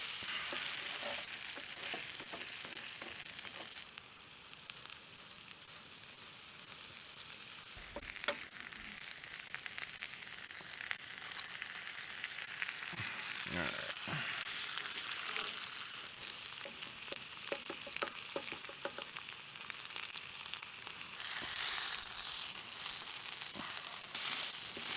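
Canadian bacon sizzles steadily in a stainless steel skillet at a solo campsite breakfast, a constant close hiss of frying with occasional small pops and stirring scrapes, no talk.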